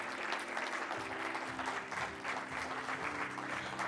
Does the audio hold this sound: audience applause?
yes